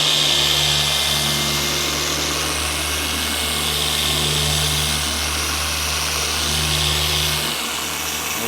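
A 7-inch rotary polisher works the paint of a BMW F10 M5 with a steady, loud motor drone and a constant whirring pad hum that rises and falls slightly as pressure changes, with no talking.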